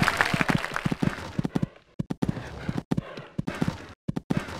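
Horse hooves beat in the Equestriad 2001 show-jumping video game, a rhythmic clip-clop of strides broken by short pauses, heard close with a commentator's voice faintly over parts.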